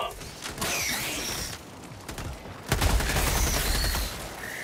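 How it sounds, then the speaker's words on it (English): Sustained machine gun fire in a co-op shooter game, dense rapid rattling bursts close and loud, with a short lull and then a heavier burst with a low thump. "I think we should call for a machine gun first"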